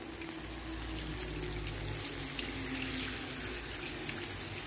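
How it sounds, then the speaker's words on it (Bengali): Water pours from a tap into a cooking pot in a home kitchen, a steady, even rushing splash that runs unbroken from start to finish, close but fairly soft, with no talking. "আমি এখানে পানি দিয়ে দিচ্ছি।"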